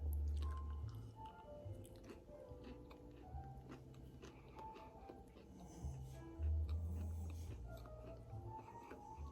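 Close, soft chewing and munching on a chocolate chip cookie with a crunchy outside and soft middle, moist crunches coming in irregular bursts over a low background hum.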